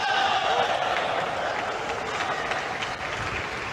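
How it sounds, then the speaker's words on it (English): A crowd at a table tennis match at the 2025 Asian Championships roars and cheers from the Chinese side, a broad, steady wash of noise that holds throughout and eases slightly toward the end. "You could hear the roar, the cheer from the side of China as well."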